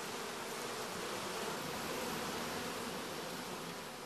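Dense, steady buzzing hum of many honeybees crowded on brood combs inside an open hive, a continuous close drone with no breaks and no voices.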